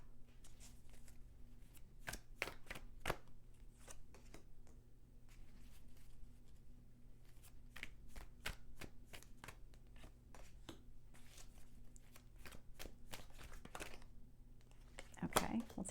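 Tarot cards are shuffled and pulled in a quiet room, giving a series of soft, crisp riffles and flicks in irregular bursts beneath low, quiet speech.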